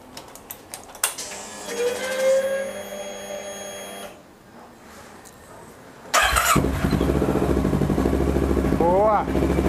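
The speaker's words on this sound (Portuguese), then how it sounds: "Vamos só ligar para ver se a bomba de combustível vai funcionar." A Kawasaki ER6N motorcycle is switched on after its fuel tank is refitted, giving a brief electric hum and whir from the fuel pump priming, then a louder steady mechanical drone. There is no talk.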